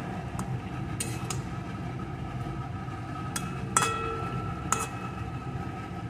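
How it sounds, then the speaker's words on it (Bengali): A spoon stirs pumpkin-leaf saag dal in a pot, giving a few light clinks against the metal over a steady simmering hiss, close but soft. "এখন এইভাবে আমি একটু নাড়িয়ে নেব।"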